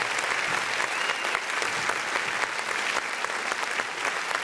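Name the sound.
audience applause welcoming podcast guest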